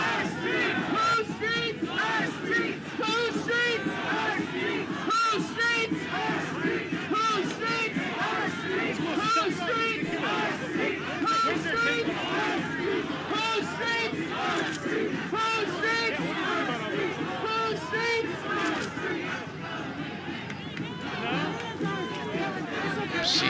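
A large crowd of protesters at a demonstration over the Chauvin verdict, with many voices shouting and chanting at once in a dense, loud, sustained roar that runs throughout.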